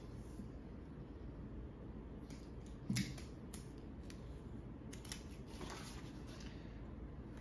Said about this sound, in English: So I'm going to take a piece of tape.